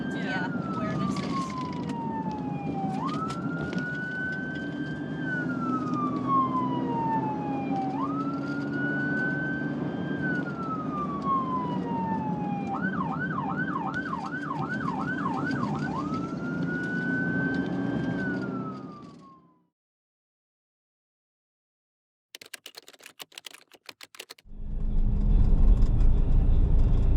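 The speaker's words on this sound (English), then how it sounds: "hit the horn and change the tone of the sirens whenever you go into intersections" A police siren wails in repeated rising and falling sweeps, switches briefly to a fast yelp, then cuts out. Engine noise returns at the end.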